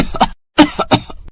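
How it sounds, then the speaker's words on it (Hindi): An elderly woman coughs in two bursts, a short harsh cough followed by a pause and then a longer run of several loud, close coughs with a faint throat sound at the end. "जिससे अम्मा को खांसी शुरू हो गई।"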